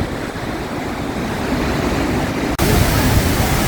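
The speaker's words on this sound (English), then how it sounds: "we are almost underneath the waterfall" Rhine Falls in Switzerland roars nearby, heard from almost underneath the waterfall as a loud, dense, continuous rush, briefly cut and resuming even stronger.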